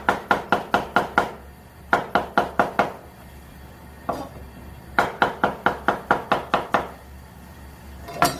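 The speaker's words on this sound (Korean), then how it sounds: "감자는 잘 안 익으니까 얇게 썰겠습니다" A knife thinly slicing a small potato on a cutting board: quick bursts of five or six sharp, close taps, separated by short pauses and a few single knocks. Sharp and loud, with no talking.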